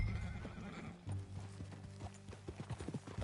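Horse in Red Dead Redemption 2 whinnying loudly up close, then clip-clopping hoofbeats setting off into a quickening gallop rhythm.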